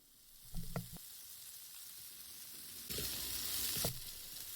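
Spicy shrimp sizzle on a griddle while being mixed, with a couple of sharp spatula knocks. The frying grows into a louder, brighter hiss for about a second before settling back to a steady crackle.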